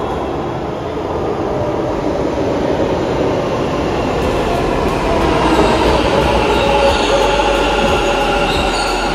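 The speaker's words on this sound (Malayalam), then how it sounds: "ഈ ബന്ദിന്റെ ദിവസം മെട്രോ ഓടുന്നത് തന്നെ വലിയ കാര്യമാണ്." A Bengaluru underground metro train running through its tunnel, a loud steady rumble with faint wheel squeal and rattling, heard from inside the carriage without speech.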